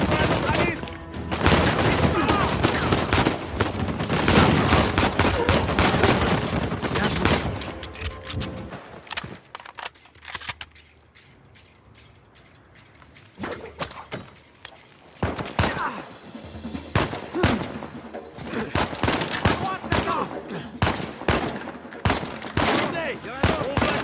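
Automatic gunfire from a machine gun turret in the Uncharted 4 video game, loud rapid bursts that sputter in and out, with a quieter gap midway before the shooting resumes, mixed with game effects and voices.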